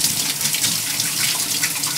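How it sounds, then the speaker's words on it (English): Water gushes from a kitchen tap while hands are washed, a loud continuous splashing hiss up close that cuts off abruptly at the end, with no talking. "Let me wash my hands first."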